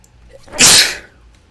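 A single close, loud sneeze bursts out sharply and fades within about a second, with no talking around it.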